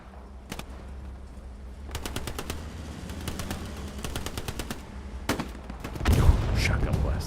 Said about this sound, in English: Shotgun blast there.